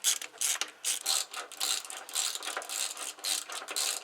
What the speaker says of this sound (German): Und Wenn die erste mal in Position ist, könnt ihr auch die zweite reinmachen.